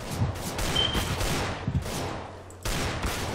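Rapid gunfire in the video game Counter-Strike: Global Offensive, a dense, loud burst of shots that runs almost without pause, with a brief break near the end before it resumes.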